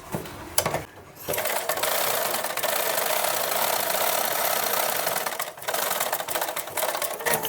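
A sewing machine stitches a cut-work blouse at the neckline, running in a steady close whir that stops briefly twice before resuming, with no talking.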